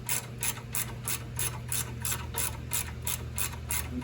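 A ratchet clicks in a fast, even series during a front brake pad and rotor job on a Mustang GT, close and crisp, with a low steady hum underneath and no talking.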